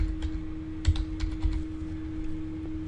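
Typing on a computer keyboard, close and steady, with a quick run of key clicks over a low steady hum and no talking.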